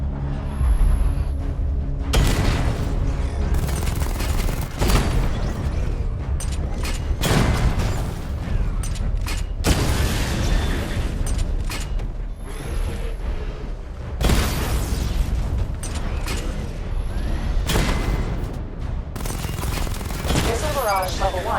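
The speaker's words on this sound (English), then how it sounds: "Destroy targets to charge up weapon energy and activate missile barrage." Rapid weapon fire and a missile barrage from the Batman Arkham Knight video game, with dense repeated bursts, booms and mechanical clatter running loud and continuous, pausing briefly between volleys.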